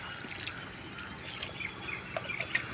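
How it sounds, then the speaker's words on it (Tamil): Liquid fertilizer poured from a tumbler into a flowering plant pot, a soft close trickle with faint dripping splashes, no talking. "ஒரு 2 டம்ளரை ஊற்றி விடுங்க."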